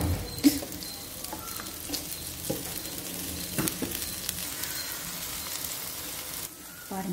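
Oil poured onto a tomato dosa made with gram flour sizzles on a hot pan, a steady close crackle and patter with a few sharper pops, ending abruptly near the finish.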